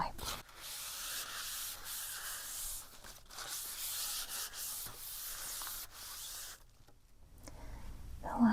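A cloth rubs steadily across a sprayed chalkboard to wipe a chalk-written word clean, a close, continuous scrubbing that runs in long strokes and pauses briefly near the end.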